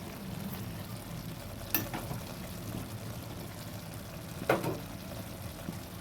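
Banana flower mixture with fried coconut stir-fried in a pan gives a steady, quiet sizzle, with two brief sharper clinks or scrapes from the stirring.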